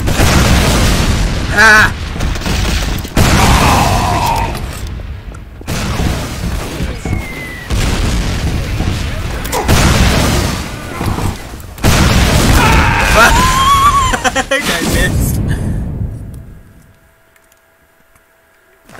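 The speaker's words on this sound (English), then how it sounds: "This rocket launcher is too epic." Rocket launcher blasts in a video game boom repeatedly, heavy explosions at irregular intervals with crackling debris, a brief vocal exclamation in between, the din fading to near silence at the close.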